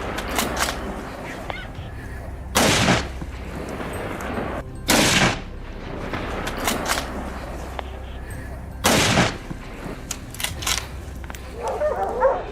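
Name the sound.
rifle gunshot at wild boar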